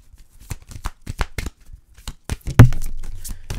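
Tarot cards are shuffled by hand for a reading, a run of quick papery riffles and slaps in uneven bursts, then one sharper snap followed by a soft sliding rustle, close and clear with no voice.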